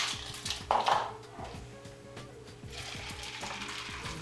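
Ice is stirred into a key lime pie martini with lime, giving a series of close clinks and scrapes in an uneven rhythm, with a brief louder rattle near the start, no talking.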